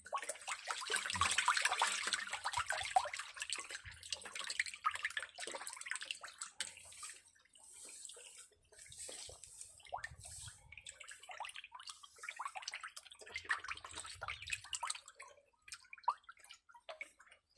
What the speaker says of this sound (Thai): ตอนนี้เราก็ปล่อยน้ำกลับลงไปให้ปลาแล้วนะครับ